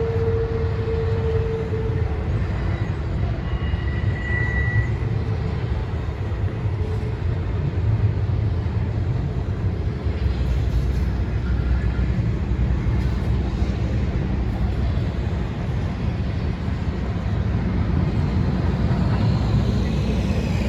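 A Norfolk Southern freight train with three locomotives on the head end rolls past in Bluefield, West Virginia, a steady loud rumble of wheels and cars lasting throughout, with a brief horn-like tone near the start.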